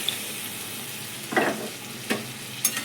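Pabda fish in a mustard, poppy seed and cashew masala with a little added water gets stirred in a pan, with three short scraping strokes over a faint, steady sizzle.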